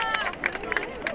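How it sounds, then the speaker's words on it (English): Crowd of people cheering and clapping for hikers finishing the Camino Portugués at Santiago cathedral, a lively mix of voices, claps and shouts close around, with chatter underneath. "Oh, these people cheering us"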